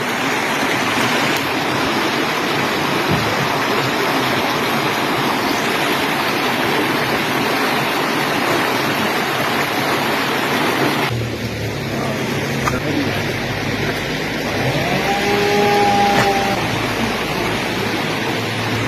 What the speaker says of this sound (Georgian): საოცრად ისმის მდინარის ჩუხჩუხის ხმა